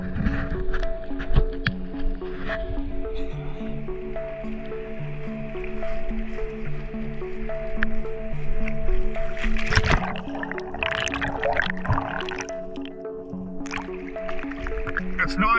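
A kayak paddled along the coast on a spearfishing trip, with soft splashes, drips and watery squelches from the paddle strokes under a steady tonal hum, and a louder burst of splashing partway through.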